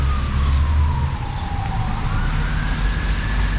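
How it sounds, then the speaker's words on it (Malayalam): A fire engine siren passes in rainy weather in Canada, its steady wailing tone sliding down in pitch and then rising again over a constant roar of traffic and rain. "ഫയർഫോഴ്സാണ്."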